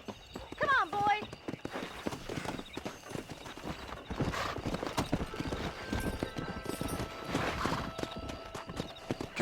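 Hooves clip-clop in a quick, steady rhythm as a horse is ridden in the Red Dead Redemption video game, with a brief whinny near the start and a person talking over the riding.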